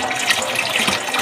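Water runs from a tap in a steady, close, hissing stream, unbroken throughout.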